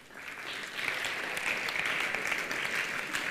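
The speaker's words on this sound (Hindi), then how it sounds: "या तुमने उतनी ताली नहीं बजाई जितनी बजनी चाहिए थी।" Lecture audience applauding together, a dense, steady wash of clapping that swells after a quieter start and holds at moderate loudness throughout, with no voices over it.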